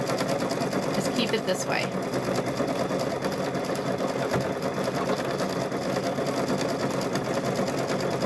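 A sewing machine stitches fabric for a microwave bowl koozie, its steady motor hum and rapid needle chatter running without a break while a person talks over it.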